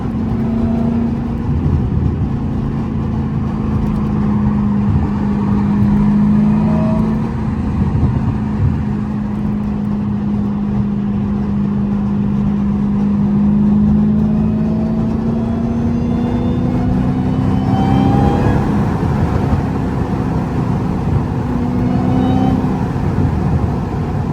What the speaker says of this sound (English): The exhaust be popping too.